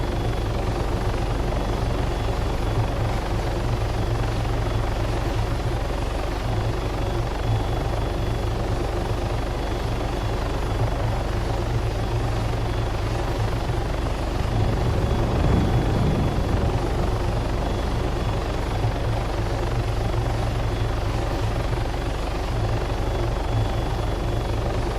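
Helicopter engine and rotor in Arma 3, a steady loud low drone with constant blade chop that swells briefly midway as the throttle is raised and lowered, running continuously without voices.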